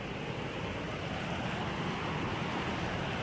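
A river rushes in a steady, broad wash of flowing water, loud and continuous from start to end, with some wind noise on the microphone and no talk.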